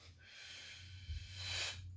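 Faint breath drawn in through the nose during a boxing-style breathing exercise, a single soft hissing inhale that swells toward the end, heard close against a low steady hum.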